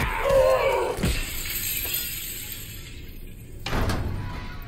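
Glass shatters in the video game The Callisto Protocol: a sharp crash near the start, then a tinkling decay and a second smashing impact later, with no talking.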